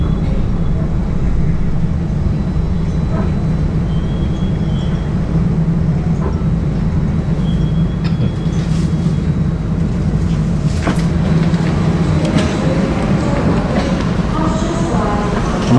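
An airport rail link train idles at a station platform in Indonesia with a steady low rumble and hum, occasional clanks and faint background voices, continuous and fairly loud throughout.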